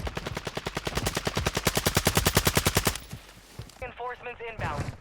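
Rapid KV Broadside shotgun blasts in Call of Duty Warzone 2.0, a dense rhythmic burst of about two dozen loud shots over three seconds, then brief game chatter and a couple of further bangs.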